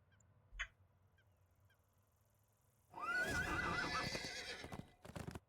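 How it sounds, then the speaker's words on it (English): A horse in the video game Dungeons and Dragons Online gives a loud, close whinny after a quiet stretch with a faint tap, followed by a few sharp hoof clops. "This time I'll probably get on my horse."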